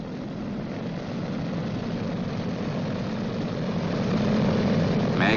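Propeller engines of a B-29 bomber running up one at a time, producing a steady, heavy droning roar that grows slightly louder toward the end, with no speech over it.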